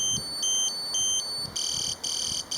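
A Garmin Edge 830 bike computer sounding its theft alarm: a loud, shrill electronic tone pulsing in a fast repeated on-off pattern, then holding steadier near the end.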